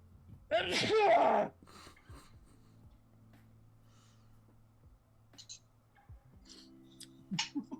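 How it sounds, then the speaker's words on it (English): A single loud, close sneeze bursts out, then quiet with faint whispering and small clicks, and a few soft noises at the end. "Uh-oh, I'm gonna sneeze"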